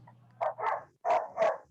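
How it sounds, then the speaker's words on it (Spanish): A dog barks four times in two quick pairs, fairly close and loud, coming through an open microphone during an online math class. "El perro, Profesor, pero en ese perro uno no se puede concentrar con eso"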